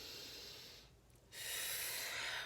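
Slow, deep breathing during a sensuality practice: a long exhale, a brief quiet pause, then a steady inhale, close to the microphone and soft, with no talking.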